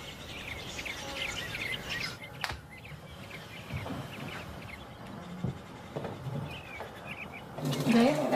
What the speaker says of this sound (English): The robins are singing out there, so the bears are awake.